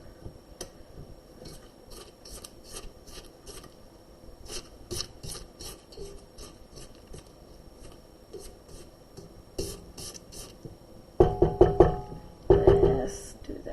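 A knife or utensil scrapes at a sponge cake in quick repeated light strokes, followed by a few louder scraping bursts at the end, with a voice talking over it.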